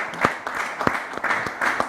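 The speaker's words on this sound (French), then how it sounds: "Est-ce qu'on peut l'applaudir quand même" A studio audience applauds a co-host on a French-language TV show, with light, scattered handclaps in an irregular rhythm at moderate volume and no talking over them.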